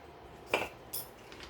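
A utensil clinks against a plate as rice is served, two quick, quiet metallic taps about half a second apart with a faint scrape after, in an otherwise hushed room.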